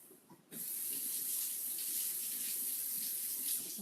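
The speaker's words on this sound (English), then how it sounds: "Okay, I'm gonna rinse this." Water from a kitchen sink tap bursts on after a short pause and runs steadily, splashing over zucchini being rinsed, close and continuous with no voices.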